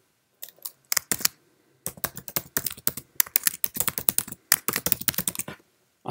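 Clattering keystrokes on a Mac keyboard as a folder name is typed, a few quick taps, a pause, then a steady run of crisp, close key presses.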